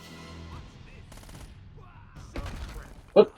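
Gunfire in the video game Uncharted: Drake's Fortune: several short, sharp bursts of shots, the last one loudest, spread across a quiet stretch with some voices and game sounds.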